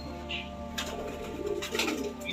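Pigeon of an old-generation breed cooing at close range, a low soft call repeating over a faint steady background.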